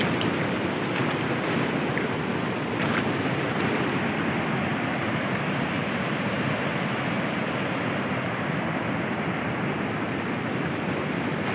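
A strong river current rushes steadily during a catfish-fishing outing, a dense, continuous roar of flowing water that stays loud and even throughout, with no voices.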